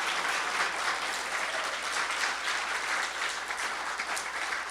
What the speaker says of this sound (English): join me in a warm round of thank you applause to Shelley Blair and Aaron Sentner